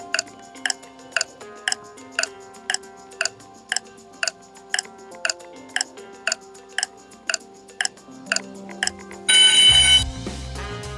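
A quiz-game countdown timer ticks in sharp, evenly spaced beats about twice per second for roughly nine seconds over a faint musical bed, then ends in a loud burst of buzzer-like noise.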